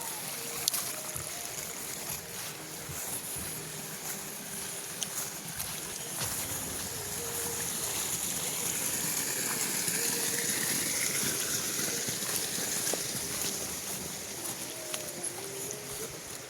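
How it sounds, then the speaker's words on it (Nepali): Water rushing along an irrigation channel in a hill village of Nepal, a constant close gushing flow that stays loud and even the whole time, with faint outdoor sounds behind it. "पानी कति मजाले कुलोमा सरर कुदिराखेको छ"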